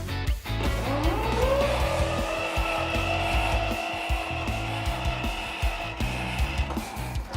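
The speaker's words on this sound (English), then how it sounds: "Right, Steve, you start the engine up." An old engine at the Mull of Galloway foghorn station cranks and starts with a rising whine, then settles into a loud, steady mechanical running and ticking over close by.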